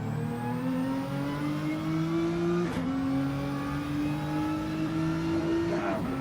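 In a racing video game, a race car leaves the pits at the Nurburgring GP circuit, its engine revving in steady rising pitches with two quick upshifts, loud and continuous with no talking.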